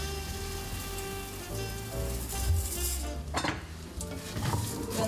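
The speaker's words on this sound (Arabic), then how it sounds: "بنحمص الرز" Rice toasting in ghee and olive oil in a pot, a steady sizzle with a spoon scraping and clinking against the metal as it is stirred, close and alone.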